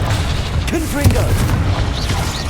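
Repeated blasting-spell explosions from the Hogwarts Legacy game, dull booming bursts amid busy combat noise with short whooshing spell effects, no talk over them.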